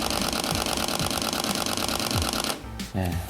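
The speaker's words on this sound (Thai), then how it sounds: "อันนี้คือเสียงชัตเตอร์จากตัว" A Canon M6 Mark II mechanical shutter fires a fast steady continuous burst at 14 frames per second, close and crisp, cutting off near the end with a brief rustle.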